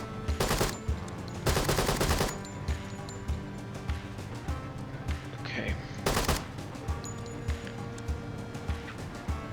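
Gunfire in the tactical shooter Door Kickers 2 during a Marine Raiders hostage rescue mission comes as loud, dense bursts of automatic fire, three separate volleys with quieter single shots and faint game sounds between them.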